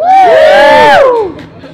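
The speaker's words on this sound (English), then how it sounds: "I have a little crowd over here" A small crowd cheers and whoops together in a loud, close burst of shouted voices that holds for about a second before tapering off into quieter murmuring.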